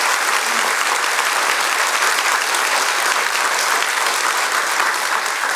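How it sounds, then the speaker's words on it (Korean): An audience at an author talk applauds in a dense, steady roar of many hands clapping at once. The clapping stays loud and even throughout, with no voices rising above it. "박수 한번."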